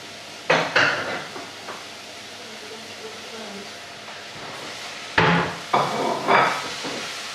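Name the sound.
stir-frying mixed peppers and mushrooms in a pan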